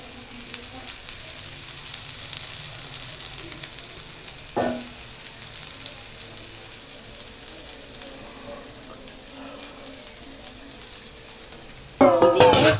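Hilsa fish frying in a pan, a steady faint sizzle and crackle across the whole stretch, with a brief knock midway and a louder burst of spattering near the end.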